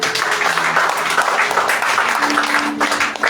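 Church congregation applauding, sustained dense clapping from many hands filling the room at steady volume.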